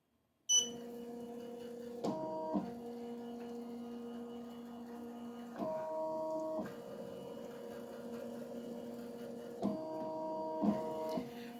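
An embroidery machine moves its hoop through a tracing run, giving a steady motor whine with brief higher-pitched stepping bursts every few seconds, close and alone.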